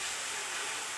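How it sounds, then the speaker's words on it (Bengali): Ginger sizzles in hot oil while chicken curry is being cooked, a continuous close, loud hissing crackle that fills the moment without a break. "আমি একটু এবার আদাটা দিয়ে একটু ভেজে নেব"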